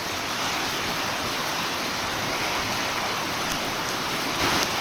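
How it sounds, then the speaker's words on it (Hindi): Heavy rain comes down in the Palchan area of Manali, making a loud, dense, steady hiss that stays constant throughout with no voices. "जैसा कि आप पीछे देख रहे होंगे बहुत तेज़ बारिश हो रही है"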